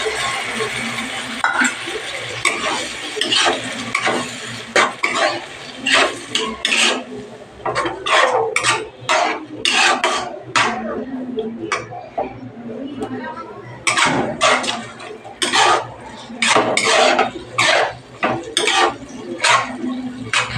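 Rajma dal stirred through a thick fried spice masala in a cooking pot, with repeated scraping and clinking strokes of a spoon against metal, close and fairly loud, in uneven bursts throughout.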